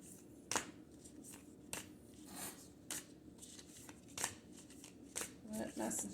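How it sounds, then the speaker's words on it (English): Tarot cards being shuffled, a run of crisp riffling bursts and soft slaps at uneven intervals, close and fairly quiet, with a faint voice murmuring in the background. "They're hard to shuffle."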